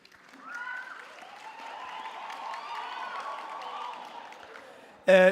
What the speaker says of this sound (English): A round of applause for yourself to all the graduates.